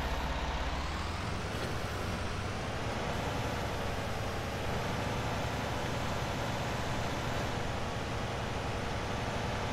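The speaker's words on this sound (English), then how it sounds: "then you can drive alongside your bale and this trailer will automatically pick it up" A tractor pulling an auto bale trailer in the Farming Simulator 19 video game drones with a steady, loud engine rumble and broadband noise, constant throughout with no talk.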